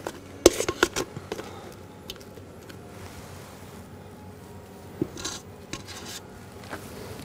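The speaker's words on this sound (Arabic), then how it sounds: "ونقلبهم مع بعض" Mousse mixture being folded and stirred together in a bowl, with soft scraping and several sharp clinks of a utensil against the bowl, louder near the start and again around the fifth second.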